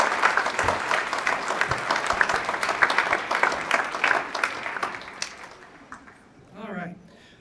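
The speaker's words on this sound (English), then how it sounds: "Let's give a good, big round of applause for our puppy" An audience at a Canine Companions graduation ceremony applauds its puppy raisers with brisk, sustained clapping that fades out, after which a voice speaks briefly.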